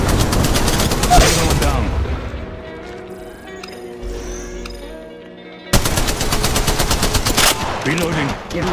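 Loud, rapid automatic gunfire rattles in Apex Legends Mobile, breaking off into a brief lull before another close, dense volley, with a player voice speaking over part of it.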